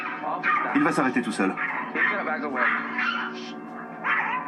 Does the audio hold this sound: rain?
no